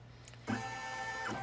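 An embroidery machine stitching a quilt block for a wall hanging gives a faint, steady mechanical hum with a tonal whine, starting suddenly partway through.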